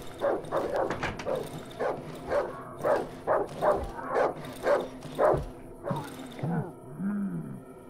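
Dogs bark in a rapid repeated series in the video game Darkwood, with growling and snarling creatures fighting them mixed in, ending in a whine-like cry.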